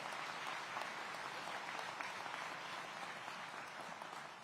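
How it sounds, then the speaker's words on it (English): An audience claps steadily for a police department honoree at a public safety event in Aurora, the dense, even applause filling the room from start to finish without letting up. "let's give her another round of applause"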